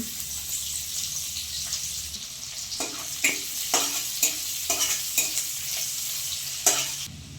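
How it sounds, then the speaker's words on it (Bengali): Onion and green chilli frying in oil left over from frying rui fish make a steady hissing sizzle, joined partway through by a run of sharp, rhythmic stirring scrapes against the pan. "ওই তেলে এবার আমি পেঁয়াজ আর কাঁচা লঙ্কা দিয়ে দিলাম"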